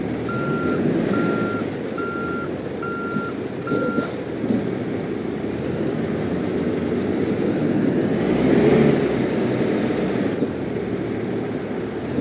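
A big truck reversing in American Truck Simulator, five evenly spaced reversing beeps over a loud steady engine rumble, then the engine droning on alone after the beeping stops.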